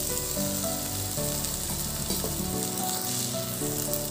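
Slit green chillies fry in hot oil in a pan, a steady close sizzle with light stirring clatter, in a Bengali cauliflower and potato curry preparation.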